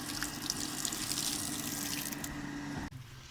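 Steady rushing water pours continuously from a pump, loud and close, then cuts off abruptly near the end.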